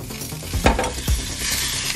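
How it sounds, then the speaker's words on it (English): Beaten eggs being scrambled in a hot frying pan, a steady loud sizzle broken by several scraping stirs of a utensil against the pan, with no talking. "so I'm just gonna scramble the eggs"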